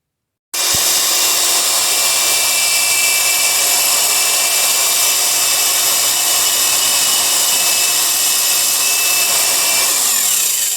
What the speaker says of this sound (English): Most of this is done with a wire brush on an angle grinder from outside.